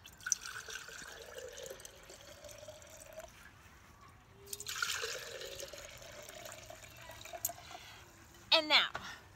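Water poured from a tap into glass jars in a few separate short fills, each with a rising gurgling tone, followed by a sharp glass clink near the end.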